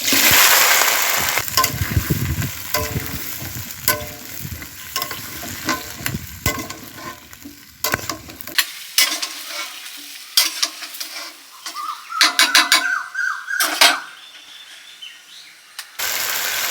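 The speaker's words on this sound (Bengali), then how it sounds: "সবজিগুলো দিয়ে দিচ্ছি এখানে" Vegetables tossed into a hot pan with chicken, a loud close sizzle and fry with busy stirring and scraping, easing off into lighter scraping and clinks toward the end.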